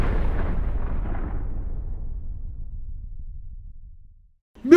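A missile strike explodes in a video game, with a loud broadband blast that rumbles and slowly fades over about four seconds before a brief sharp sound cuts in at the end.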